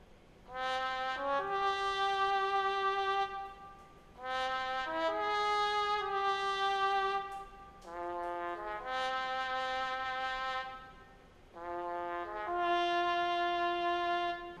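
Spaghetti western trumpet sample processed with EQ, Fresh Air and reverb, repeating melodic phrases of bright sustained brass notes with a wide airy tail, fairly quiet and without speech.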